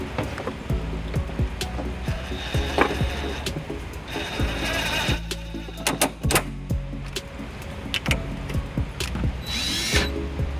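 Power tool driving a 14mm socket onto cargo anchor bolts in a 2009 Toyota RAV4 during trailer wiring installation, heard as repeated short bursts of whirring and rattling ratchet clicks, close and loud amid workshop clatter.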